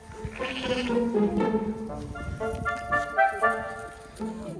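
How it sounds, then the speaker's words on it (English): Orphan lambs bleat repeatedly and close up, several wavering cries overlapping in quick succession across the whole stretch, with rustling and movement around them. "Lucky and Minty are orphan lambs"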